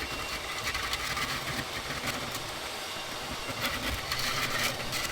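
A small, flexing wood lathe turns a giant wooden pedestal blank, giving off a dense, continuous rumbling drone with rough vibration and scraping, steady and fairly close, with no talk.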